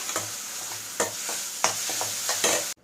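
Continuous frying sizzle of ground tomato paste with repeated scraping strokes of a spoon stirring in the pan, roughly once every half second, close and steady, ending abruptly.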